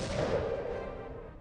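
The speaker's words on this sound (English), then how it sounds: "yeah, explosions." Booming explosions from a video game, one sustained rumbling blast that slowly fades over about a second and a half, moderately loud with no talk.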